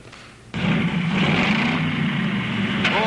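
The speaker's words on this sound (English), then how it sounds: "he's going to be starting up his 650 horsepower engine out there" A 650-horsepower engine starts up abruptly after a faint lead-in, then settles into a loud, steady low rumble that holds close and continuous, with no talk over it.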